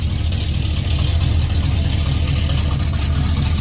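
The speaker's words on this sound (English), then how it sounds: "I was wondering if cutting the mufflers off would give it a little bit more lope. I mean, it's definitely louder." A big-block V8 in a Ford Fox body idles loudly up close with its mufflers cut off, giving a deep, rough, continuous rumble with a slightly uneven pulse.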